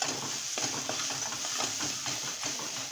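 A green pea and potato bhaji seasoned with turmeric frying in a pan as a spoon stirs it, giving repeated close scrapes and clinks over a constant loud sizzle, with no voices.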